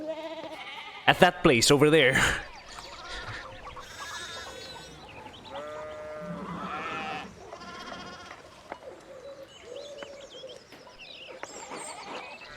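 Sheep bleat in the video game Pentiment, several wavering, nasal calls in succession, one loud burst early and others scattered at moderate level amid clucking fowl, with a person talking over parts of it.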